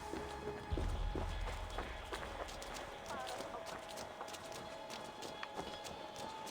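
Horse hooves clip-clopping on city streets in Assassin's Creed Valhalla, a steady quiet trot in a busy game town with background ambience and someone talking over it.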